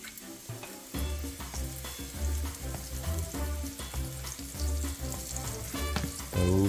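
Double-battered crappie fillets dropped into hot oil, with loud, steady close sizzling and bubbling frying throughout and a few clinks of utensils.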